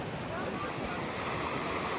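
Sea waves wash steadily on a rocky Vizag beach, a constant broadband surf roar at moderate distance, with some wind buffeting the microphone and no talk.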